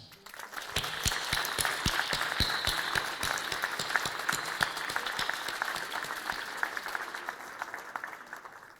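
Audience applause for the town's youth activity teams and their supervisors at a mayor's New Year address, a modest crowd clapping with distinct individual claps close by, steady for several seconds then tapering off.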